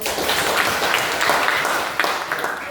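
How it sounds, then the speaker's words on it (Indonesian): An audience applauding in a classroom or hall, a steady dense wash of clapping from many hands lasting the whole moment, fairly loud and close. "Tepuk tangan buat"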